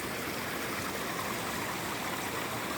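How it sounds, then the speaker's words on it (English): A small waterfall splashes into a rocky stream in a grotto, a steady, even broadband rush of falling water heard from nearby without pause. "there's a little waterfall grotto up there"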